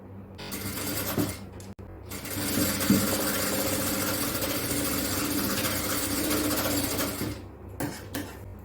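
An industrial sewing machine runs steadily, stitching the shoulder seam of an XXL yoke nighty, a continuous mechanical whir that starts after a brief stop near the beginning and winds down at the end, with no talk.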